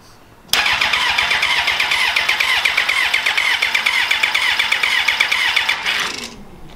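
A new race car motor cranks and catches abruptly, then holds a loud, close, raspy idle with a rapid pulsing beat before cutting off sharply.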